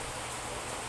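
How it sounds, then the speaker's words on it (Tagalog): Steady, faint rain falls with a continuous, even hiss throughout and no other distinct sounds. "At umuulan."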